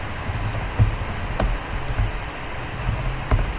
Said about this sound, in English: I'm pressing shift and I'm pressing the same button.